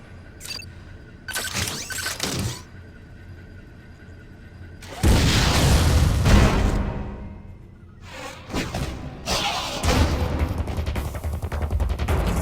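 Missile launched and exploding in Metroid: Other M, heard as a sharp firing thump followed by a loud, sustained booming blast, with further rumbling impacts after, and no talk.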